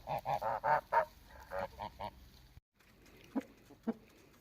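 Domestic geese honk in a rapid series of loud, close calls at a farmyard with chickens and melting snow, followed after a brief pause by a few quieter, scattered sounds.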